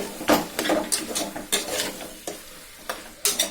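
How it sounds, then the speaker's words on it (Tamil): Mutton stirred with onion and tomato in a pot, a spoon scraping and sloshing in about eight distinct strokes, close and moderately loud, with a light sizzle underneath. "மட்டனை நல்லா வெங்காய தக்காளியோட மிக்ஸ் பண்ற அளவுக்கு கலந்து விட்டுக்கோங்க"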